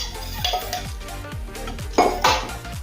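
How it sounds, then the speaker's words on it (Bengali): Pieces of fried rohu fish go into simmering gravy in a metal pan, with a series of clanking pot and utensil knocks, two sharper clatters near the end. "এখন গ্যাসের ফ্লেম কমিয়ে দেবো আর সাথে দেবো আগে থেকে ভেজে রাখা মাছের পিসগুলো"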